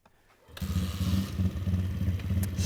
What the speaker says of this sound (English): thanks for watching our stunt pit bike video